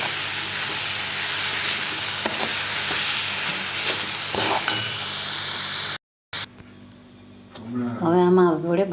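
An amla and sugar mixture for chyawanprash being stirred in a pan, a sustained hiss and sizzle with scraping strokes, then a brief cut and a voice speaking over quieter cooking.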